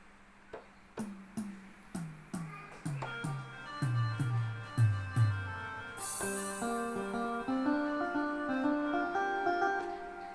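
Plucked notes on a Yamaha PSR keyboard step downward in a quick pattern, then a soft synthesized multi-pad harmony swells in and sustains as layered chords.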